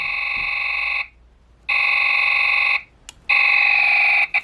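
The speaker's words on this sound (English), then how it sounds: "we'll get this sort of rapid fire sound" Power Rangers Time Force Chrono Blaster toy firing in rapid-fire mode: loud electronic buzzing bursts in three long stretches with short gaps, close and alone without talk.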